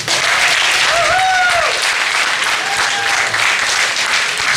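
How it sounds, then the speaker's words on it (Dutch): A carnival audience at a prince's session applauds loudly and steadily in a hall, dense clapping filling the whole stretch while a few high whistles or cheering voices rise briefly over it. "Dus dat mag ook best een applaus komen."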